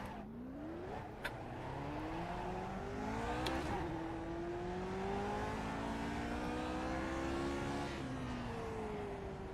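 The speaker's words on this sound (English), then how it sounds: "Downshifted to first" A Lotus 49 race car engine in iRacing at Monza, a loud, continuous open-wheel wail that rises and falls through shifts, with sharp downshift blips and re-climbing revs.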